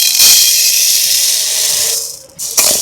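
Black urad dal dry-roasting in a pan over a low flame gives a steady, close hiss with a faint rattle of grains, dipping briefly near the end before resuming.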